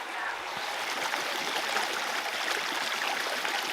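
A mountain stream flows steadily along a rainy hiking trail in Waterton Lakes National Park, Alberta, heading toward a waterfall; a continuous, close rushing and gurgling wash with no voices.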